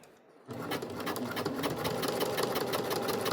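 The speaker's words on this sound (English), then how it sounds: "Make sure you do a good back stitch." A sewing machine runs steadily, stitching a seam on a small fabric credit card wallet, with a rapid, even mechanical whir and clatter that starts abruptly and continues close by.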